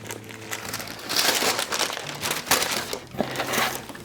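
Kith monogram tissue paper crinkles and rustles up close as a New Balance 990 V2 sneaker box is unpacked, irregular crisp crumpling bursts throughout with no talk.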